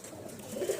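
A pigeon in a loft gives a faint, soft low coo, rising slightly near the end of a very short, quiet moment.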